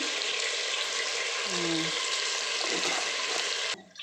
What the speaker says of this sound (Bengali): আলুটা একটু ভাজা হয়ে যাবে, একটু লালচে লালচে হয়ে যাবে